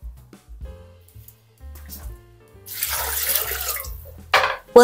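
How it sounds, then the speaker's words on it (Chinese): Celery stalks washed under a running kitchen tap, rubbed back and forth to loosen mud from the stems; water gushes and splashes into the sink in a loud burst midway, with quieter handling knocks before it. "我们把芹菜洗一洗"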